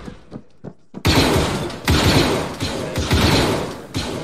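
Video game shootout with a few sharp distant shots, then dense, loud, sustained gunfire rattling in rapid bursts up close.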